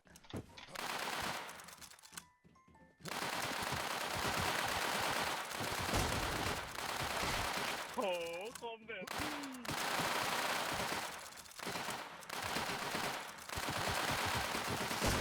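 Gunfire from a shooting video game, long loud automatic bursts with brief gaps and a few short pauses, a voice speaking over the shooting at times.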